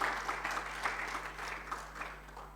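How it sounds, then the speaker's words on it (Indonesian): A church congregation at a Sunday worship service claps together in a soft, steady patter, fairly distant and faint, over a low electrical hum. "Ayo tepuk tangan bagi Tuhan Yesus."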